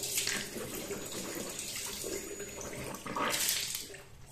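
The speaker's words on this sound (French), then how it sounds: "Donc je rince encore une fois." A bathroom tap runs steadily into a sink while teeth are rinsed, a soft continuous splashing stream that swells briefly at the start and again near the end, fairly quiet and close.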